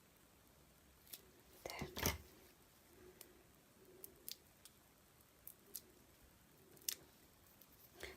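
Scissors snip a piece of paper cardstock for a handmade wedding anniversary card, a quiet close cut followed by a few faint ticks, with one brief soft spoken word.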